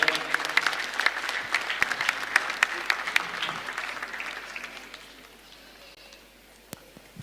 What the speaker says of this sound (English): Please a round of applause for him as he comes forward